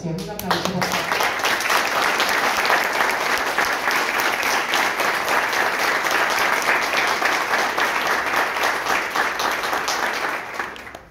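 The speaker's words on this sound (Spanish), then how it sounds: "Un aplauso, por favor." Dense, steady applause from an audience at a public presentation of Bahía Blanca mayoral candidates' disability proposals, swelling almost at once and holding loud and even for about ten seconds before tapering off.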